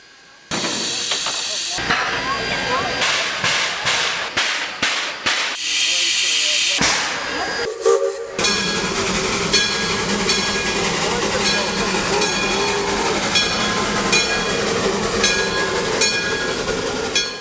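A steam locomotive, once retired on a Hawaiian plantation, chuffs in rhythmic bursts, then settles into a steady loud hiss and rumble with clanking, running close by.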